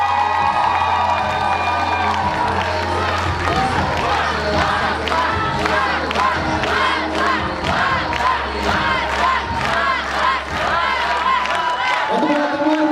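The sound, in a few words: audience applause and cheering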